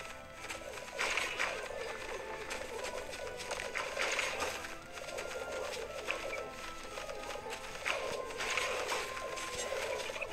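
Pigeons in the video game Plants vs Zombies 3 (Welcome to Zomburbia), heard as cooing and fluttering game effects mixed with busy game sounds and music at moderate level, no talk.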